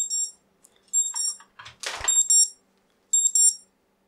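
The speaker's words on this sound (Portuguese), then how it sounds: "Meu despertador tocou" A bedside alarm clock rings in short repeated electronic beep bursts, loud and close, with a brief rustle in the middle and pauses between the bursts.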